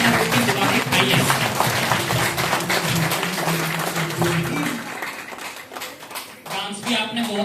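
Audience clapping at a network marketing seminar in India, dense applause that fades slightly toward the end with a voice heard faintly beneath it.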